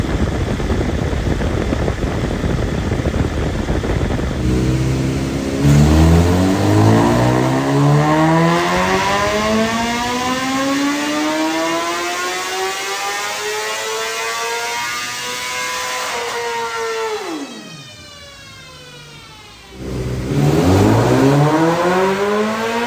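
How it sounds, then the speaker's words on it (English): A 2023 BMW M1000RR superbike on a dyno in fifth gear, loud and close, its engine climbing in a long rising whine through the rev range, then dropping sharply before revving up again. "This is a 5th gear pull we have with our 23"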